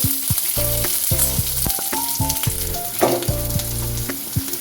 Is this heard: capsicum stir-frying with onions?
yes